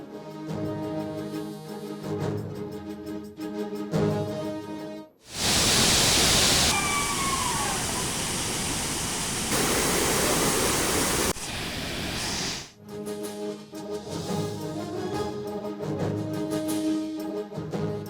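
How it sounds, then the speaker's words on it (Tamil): Kaveri river water gushing at Hogenakkal falls, a loud continuous roar of rushing water lasting several seconds between stretches of background music. "ஒகேனக்கல் காவிரி ஆற்றில் பிரவாகமாக ஓடி வரும் தண்ணீர்"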